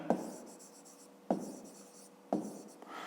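Pen strokes scratch out numbers by hand on paper during a fifth-grade maths division exercise, three distinct tapping starts each followed by quick scribbling, close and quiet.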